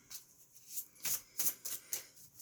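An oracle card deck is shuffled by hand in a series of crisp riffling bursts, close and fairly quiet, irregularly spaced with short pauses between them and no talking.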